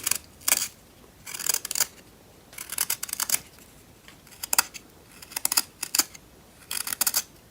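A freshly hand-sharpened wood carving chisel cutting into wood, giving repeated bursts of crisp, close shaving and scraping strokes in irregular clusters, with short pauses between cuts and no voices.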